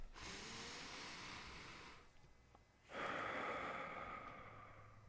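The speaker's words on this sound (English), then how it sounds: "taking a deep cleansing breath" A deep cleansing breath, a long drawn inhale followed after a short pause by a strong, audible exhale, close and clear with no talking.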